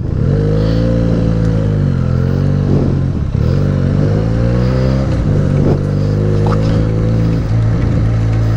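A Benelli 300 motorcycle rides slowly through mud after rain, its engine close and loud with a steady, droning note that wavers as the throttle shifts.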